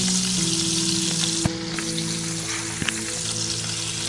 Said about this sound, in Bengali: এবার করলাগুলোকে ভেজে নেব।